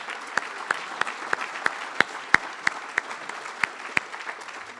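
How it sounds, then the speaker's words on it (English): An audience at a community foundation's annual meeting applauding, a steady wash of many hands with a few sharp, prominent claps standing out at a regular beat. "So give yourselves all a round of applause."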